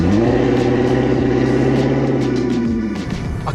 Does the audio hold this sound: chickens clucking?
no